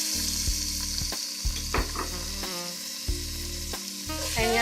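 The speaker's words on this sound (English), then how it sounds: "And we're going to let that saute for 5 to 7 minutes." Chopped onion, carrots and celery sauté in olive oil for soup, giving a steady close sizzle and crackle throughout, with occasional stirring scrapes over a constant frying hiss.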